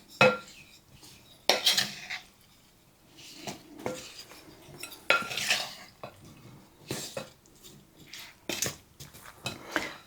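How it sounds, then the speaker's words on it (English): A utensil scrapes and clinks against a metal sheet pan while seasoned chicken, potatoes, carrots and green beans are stirred, in irregular bursts of close clatter separated by short quiet gaps. "And give this a stir."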